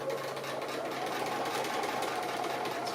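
Sewing machine stitching close to the edge of a fabric applique, a steady, fast, continuous mechanical whir that stays even and close throughout with no pauses.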